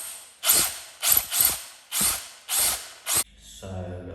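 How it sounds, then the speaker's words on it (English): A power drill whirs in six short bursts of about half a second each, drilling a hole in tile, close and loud, followed by a low rattling hum. "I start off with the point drill and then I gradually widen the hole"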